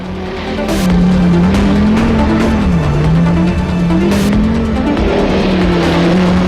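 Audi Quattro rally car at the 1985 Dakar in Africa, its engine droning loud and close with a wavering pitch as it revs and shifts, over rough wind and gravel roar.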